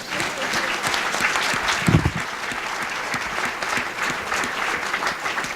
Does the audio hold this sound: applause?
yes